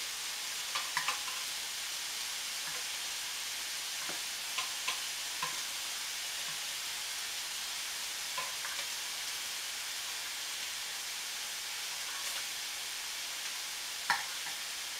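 Homemade nuggets cooking in a pan give off a steady, soft sizzle throughout, with faint clicks and scrapes scattered across it from occasional stirring, plus one sharper tick near the end.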